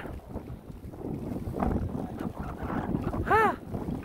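Gusty wind buffets the microphone with rumbling bursts, while water and a boat's movement sound nearby and a brief high chirp cuts through.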